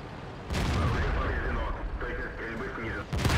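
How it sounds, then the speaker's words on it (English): A tank cannon shot in the World of Tanks video game, with a SU-101 tank destroyer in play: a sudden loud boom followed by a sustained rumbling roar for about two and a half seconds, ending with another sharp report. "He fires one straight at our gun, which takes our gun out."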